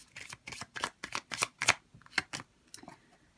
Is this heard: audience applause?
no